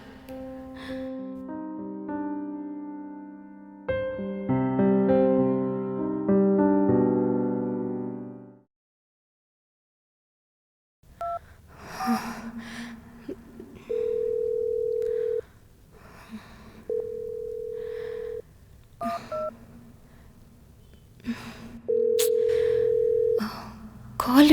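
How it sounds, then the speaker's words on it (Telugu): A phone call goes unanswered: a burst of dialing tones, a short silence, then a repeated ringing tone that keeps cycling over faint background movement. "Call lift చేయట్లేదేంటి?"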